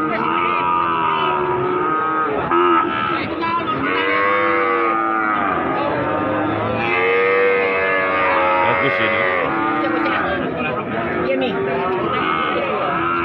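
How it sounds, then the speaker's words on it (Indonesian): Several cattle, including young heifer calves, moo repeatedly at a busy outdoor livestock market, long drawn-out calls overlapping near and far amid crowd chatter and voices. "Ini ada sapi-sapi pekon."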